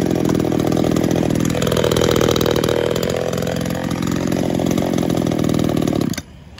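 A Tanaka 330 mini top-handle chainsaw, 4 kg with a 37 mm cylinder, runs steadily at a loud, constant buzzing pitch for about six seconds before cutting off abruptly.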